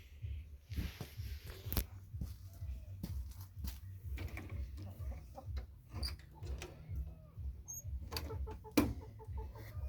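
Chickens cluck and scratch around quietly at close range, with scattered clucks, soft bumps and rustling against a low background hum.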